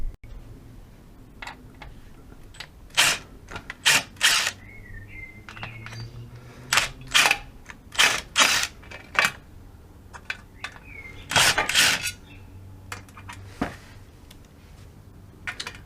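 A cordless Makita DWT285 impact wrench drives screws in short, loud, rattling bursts, with about eight separate hammering runs spread across the quiet stretches.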